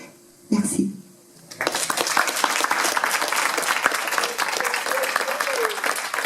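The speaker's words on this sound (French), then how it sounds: "sous vos applaudissements." A brief vocal sound, then a crowd bursts into sustained applause at a slam poetry event, steady clapping filling the rest of the clip.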